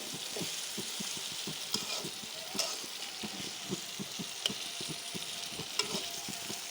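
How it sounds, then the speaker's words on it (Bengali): Pointed gourd frying with spices in a pan, a soft steady sizzle under rhythmic scraping of a spatula stirring the pieces, with a few sharper clinks; fairly quiet and close. "কতগুলো পটল ভাজবো মশলা দিয়ে"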